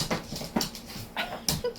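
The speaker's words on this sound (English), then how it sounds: "Dog." A dog whimpers and yips in short soft bursts, several brief whines spread across a couple of seconds, fairly close with room noise underneath.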